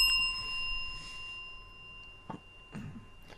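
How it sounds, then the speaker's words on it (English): A hand bell rings with a bright, sustained tone at the start that slowly decays and lingers faintly under later quiet thumps and rustles. "I got my own bell."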